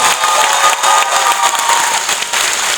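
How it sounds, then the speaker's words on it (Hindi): An audience bursts into dense, loud applause with a few cheers mixed in, a continuous roar of clapping that stays strong throughout. "भैया इस पे ताली बहुत जोरदार चाहिए।"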